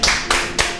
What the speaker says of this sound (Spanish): Un aplauso para Martín.